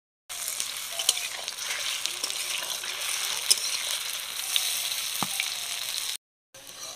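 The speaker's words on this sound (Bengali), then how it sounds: "বাঁধাকপির বলগুলো সব ভাজা হয়ে গেছে" Cabbage balls deep-frying in oil, an even bubbling hiss that runs steadily for about six seconds with a few faint clicks, then cuts out briefly before resuming; no voices.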